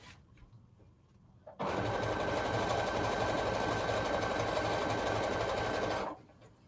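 A sewing machine runs a zigzag stitch along the edge of a fabric flag, a loud steady mechanical whir lasting about four seconds after a quiet start, then stopping abruptly.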